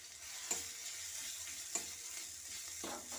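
Garlic and ginger fry in white cooking oil with a soft, continuous sizzle and two brief taps of a stirring spoon, quiet and close with no talking.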